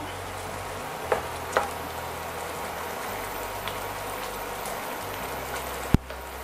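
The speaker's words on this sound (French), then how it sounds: "Une bonne ébullition." Sauce with lamb kidneys, olives and cherry tomatoes bubbling at a strong boil, a steady crackling sizzle with occasional soft pops and one sharp knock near the end.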